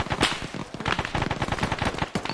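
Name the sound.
gunfire in the video game Arma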